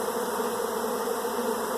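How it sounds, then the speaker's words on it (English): Honeybee swarm pouring out of a hive, a dense, continuous buzzing hum of countless wings, loud and steady throughout with no voices. "Oh man, are those bees swarming?"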